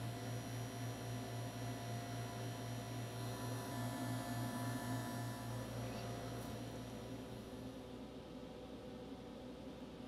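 A steady machine hum with a low droning tone runs continuously, joined by faint hiss and rattle, as an R-1234yf refrigerant service machine runs a vacuum check on a system.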